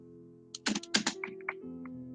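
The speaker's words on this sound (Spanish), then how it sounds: "El teclado." Several quick keystrokes on a computer keyboard click in a short irregular burst, close and fairly faint, with a steady hum underneath.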